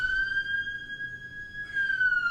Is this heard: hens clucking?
no